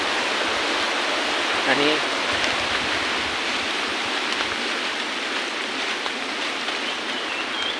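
The Ganesh river at Jambare flows past a rustic village bridge, a broad steady rush of moving water that fills the whole scene while a person speaks briefly over it.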